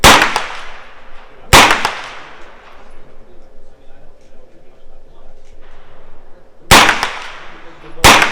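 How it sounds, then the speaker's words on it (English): Pistol caliber carbine shots ring out at an outdoor gun club shooting match, four loud sharp cracks, two close together near the start and two near the end, separated by quieter ambient noise. "5 shots from a 5-round magazine."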